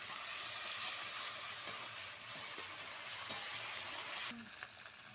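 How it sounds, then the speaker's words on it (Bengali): Ginger and dried red chilli paste for a potato and rui fish curry sizzles steadily in a pan as it is sautéed, a close, continuous frying hiss with a few faint stirring clicks, dropping off near the end. "এবার মশলাটা আমি খুব ভালো করে কষিয়ে নেব।"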